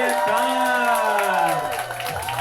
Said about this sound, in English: Please start clapping for Freya Khan, Zine Launch Show, Das Kapital.